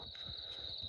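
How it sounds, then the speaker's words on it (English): Crickets chirping in a continuous high trill on a porch, faint and steady in the background, with low rumbling underneath. "if you hear crickets in the background, it's because I'm sitting out on my porch"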